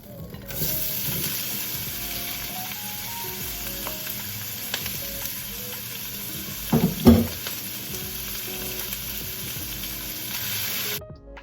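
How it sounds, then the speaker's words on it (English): Vegetables sear and sizzle in a very hot oiled pan, giving a steady bright frying hiss throughout, with a few clinks and stirring scrapes midway, heard close and without talk. "So I'm going to put more oil in my pan. Pan's very hot right now, so hopefully I'll get a nice sear on these veggies too"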